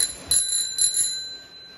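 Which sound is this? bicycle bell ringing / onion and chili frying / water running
bicycle bell ringing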